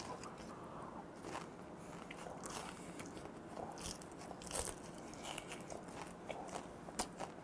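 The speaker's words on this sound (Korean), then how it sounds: "씹자마자 바삭," Crispy whole grilled gizzard shad crunched close up, with a steady stream of crackly bites and chewing and no speech.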